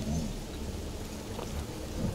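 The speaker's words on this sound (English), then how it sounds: "Look how the rain's shimmering off of the moor." Steady rain with low thunder rumbling in Guardians of the Galaxy, set on a moor, a continuous loud wash of downpour with no voices.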